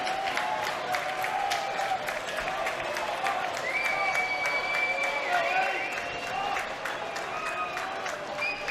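Baseball crowd at an LSU versus UL-Lafayette college game cheering and clapping steadily throughout, a dense sustained roar with whistles and shouts rising midway, heard from the stands.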